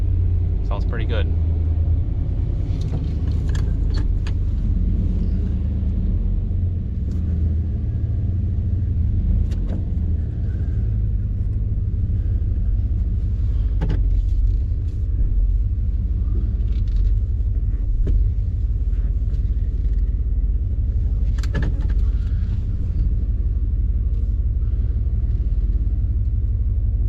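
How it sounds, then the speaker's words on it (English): A 350 V8 in a two-wheel-drive short bed truck idles steadily through a Borla exhaust, a deep continuous rumble close by with someone talking over it throughout. "Does have a Borla exhaust."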